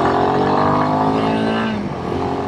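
A Royal Enfield Himalayan 452 motorcycle engine accelerating: a loud, close, rising engine note climbs steadily through the revs, then drops back as it shifts near the end.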